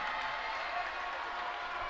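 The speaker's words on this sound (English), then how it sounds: "Crowd on their feet, getting into it." At a high school varsity boys basketball game between Wilson and Coolidge, the crowd roars and cheers during a free throw: a dense, sustained wash of voices and clapping filling the gym, fairly loud and continuous.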